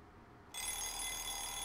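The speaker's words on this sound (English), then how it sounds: "I was woken up by the noisy alarm clock." An alarm clock in a visual novel video game starts ringing abruptly after near-silence, a steady electronic telephone-like ring that carries on loud and unbroken to the end.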